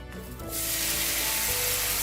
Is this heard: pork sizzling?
yes